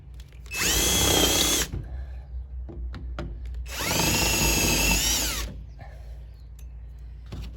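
A power drill bores out rivets on a light in two loud, close, whining bursts of roughly a second each, with quiet handling noises in between.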